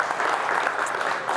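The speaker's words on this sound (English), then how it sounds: "big round of applause to them for sponsoring today." A crowd at a sponsored community event gives a dense, steady round of clapping that stays loud and close throughout, with no gaps and no other sound.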